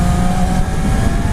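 A 2019 Yamaha R6 motorcycle engine drones loudly and steadily under throttle on an open road, mixed with rushing wind, with no talk.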